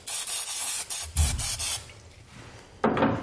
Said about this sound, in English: grab some brake parts cleaner and just spray everything down